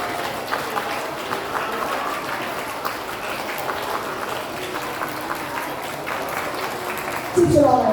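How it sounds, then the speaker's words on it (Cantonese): Sustained applause from a crowd at a school prize-giving ceremony honouring English subject award winners, steady clapping with some background chatter and a louder burst near the end. "好，請大家一次過俾啲掌聲，攞到咧學科表現優異獎英文科嘅同學。"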